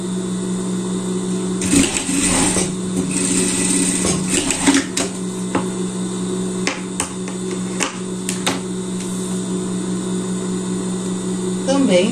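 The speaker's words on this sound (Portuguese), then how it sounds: "Aqui vamos juntar aqui ribana com ribana e fechar o outro lado" A sewing machine stitches ribbed knit fabric together at a garment's shoulder seam, running steadily with a constant hum and small mechanical clicks, close up, with a voice speaking intermittently over it.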